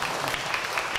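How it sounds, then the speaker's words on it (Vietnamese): Brief burst of steady audience clapping at a parish media ministry gathering, moderately loud and dense for about a second. "Chúng ta xin tràng pháo tay để cảm ơn Tuấn."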